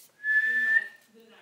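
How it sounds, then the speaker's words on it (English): A person whistles a single clear sustained note, close and fairly loud, followed by a faint murmur. "I can whistle."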